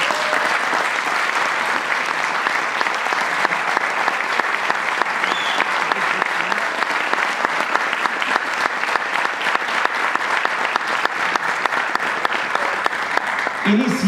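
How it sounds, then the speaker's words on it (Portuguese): Sustained loud applause from an audience at a children's and youth song festival in Madeira, honouring the conductor of the youth choir; dense, steady clapping fills the whole stretch with no pause. "dirigido pela maestrina Zélia Gomes, para a qual eu volto a pedir um forte aplauso"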